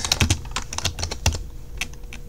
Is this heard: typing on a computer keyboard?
yes